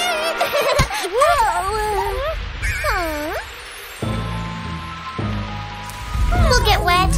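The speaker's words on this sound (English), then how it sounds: "Look, it's starting to rain!" Cartoon rain falling: a hissing downpour that comes through plainly in the middle, while chirpy, swooping character voices and giggles sound before and after it.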